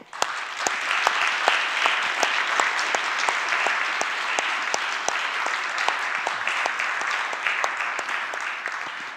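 Sustained audience applause welcoming an economist on stage for a prize lecture, dense and even throughout with some sharper individual claps standing out, filling the hall without talk.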